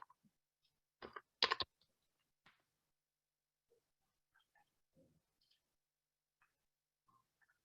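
Sparse keystrokes tap on a computer keyboard, a short burst of louder clicks near the start followed by scattered faint, irregular taps over a quiet background.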